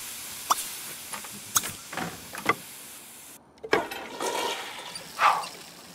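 A toilet flushing in the life-simulation game The Sims 3, heard as a soft, fairly quiet gurgling rush with a few short clicks and game effects around it, with no talking.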